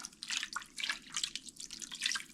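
A cup of water is poured into a cooking pot of a budget meal, giving a soft, close splashing and dribbling sound that runs steadily for a couple of seconds with no talk.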